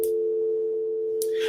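A steady telephone dial tone hums alone at an even level for the whole stretch, with a brief hiss of noise at the start and another near the end.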